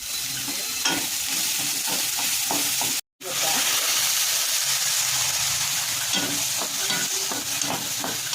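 Ginger-garlic paste, tomato and coriander sizzle loudly in a hot pan while being stirred, a steady close frying hiss with light scraping, briefly cut off once.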